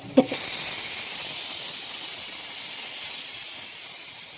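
Hot tempering poured into a brinjal buttermilk stew gives a brief clatter, then a loud, even sizzle and steam hiss that continues unbroken to the end.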